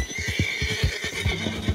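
A horse in the Red Dead Redemption 2 video game whinnies loudly while being ridden at speed, over a rapid, rhythmic drumming of galloping hooves.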